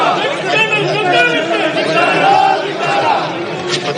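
Legislators in the Karnataka Legislative Assembly raise a loud, sustained chorus of victory cheers, many voices overlapping into dense crowd chatter that fills the chamber throughout.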